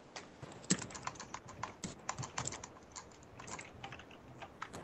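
Faint, steady keyboard typing carried over a voice chat line, a continuous patter of small clicks in irregular runs with a few sharper keystrokes, thin and slightly distant as if picked up by a headset mic.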